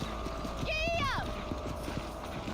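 Horse hooves clip-clopping in the Red Dead Redemption video game, quiet rhythmic thuds under a brief voiced call, with a short whinny-like sweep near the start.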